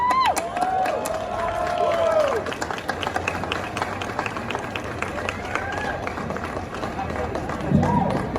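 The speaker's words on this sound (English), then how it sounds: "Get a round of applause." A convention panel audience applauds and cheers as a guest is called up, a lively crowd bed of clapping and shouts under a speaker's voice and some squeaky tones.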